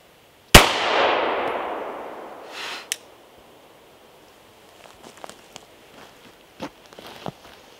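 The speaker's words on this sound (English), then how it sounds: "now a shot of 9mm out of the regular Glock" A single sharp 9mm shot from a standard Glock pistol cracks loudly and close, its echo ringing out for about two seconds, followed by a metallic clink and faint scattered small knocks.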